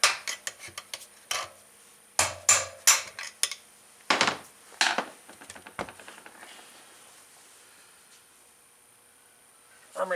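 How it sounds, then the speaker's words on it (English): Big screwdriver hammered against the outer wheel bearing race of a 2004 Suzuki RMZ250 rear wheel, a series of sharp, close metallic strikes in irregular bursts, then quiet, with one more hit at the end. "punch out the outer race. Got me a big old screwdriver here"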